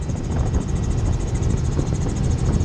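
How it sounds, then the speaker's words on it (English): A helicopter flying over Hawaii gives off a steady, loud engine and rotor drone that holds level throughout, with no voices. "In a helicopter."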